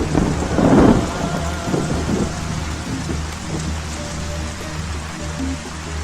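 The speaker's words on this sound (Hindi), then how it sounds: "इतना बारिश हो रहा है" Heavy rain pours steadily with loud rumbling thunder, a big crash near the start and lower rolls after, the downpour continuing throughout without voices.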